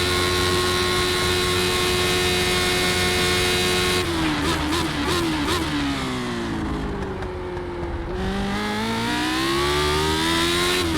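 Lotus 79 race car engine in a racing video game, a loud, steady, buzzing high-revving drone that drops and wavers through a corner with gear changes and throttle lifts, then climbs back to a sustained roar, with no talking.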